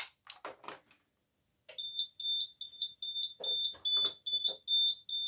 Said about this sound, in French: Maintenant, je vous montre comment ça se passe le déclenchement d'alarme.